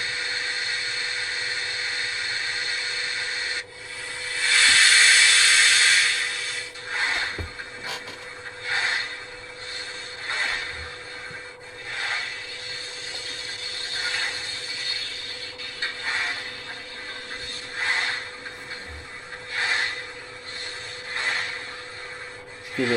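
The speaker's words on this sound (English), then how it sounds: "and we'll set the train going." A Hornby TT:120 Easterner model train set runs with its sound turned on, giving a steady mechanical hum with clicking and whirring. A louder, brighter burst of sound comes early, and fluctuating rail and motor noises follow throughout.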